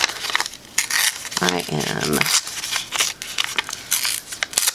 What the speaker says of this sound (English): we are ripping paper after all.